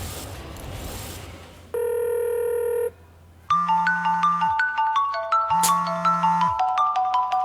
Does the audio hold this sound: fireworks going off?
no